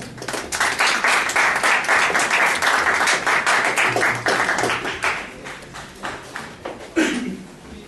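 A conference audience applauds before a talk on agave as biofuel, dense sustained clapping for several seconds that thins into scattered claps near the end.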